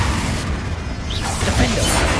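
A Confringo fire spell cast in Hogwarts Legacy, a loud, dense, crackling rush of game combat noise with a whooshing swell partway through, heard with no talking.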